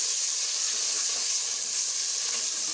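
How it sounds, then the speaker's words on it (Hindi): Onion, tomato and ground spices such as coriander powder and salan masala frying in a pan for aloo gosht, giving a steady, even sizzle with soft hissing steam and no talking. "प्याज और टमाटर में अच्छी तरह से भून लेंगे"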